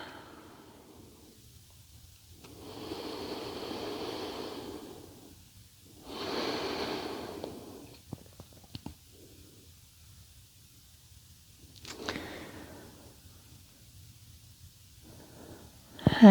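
Slow, deep breaths during a yoga core exercise, three long soft inhale-exhale swells spaced a few seconds apart, close and quiet over a faint hiss with no talk.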